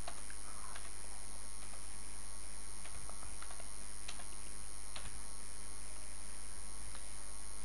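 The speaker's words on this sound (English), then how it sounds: "I am typing profile." Faint, irregular clicks of a computer keyboard being typed on, a few keystrokes at a time, over a low steady electrical hum.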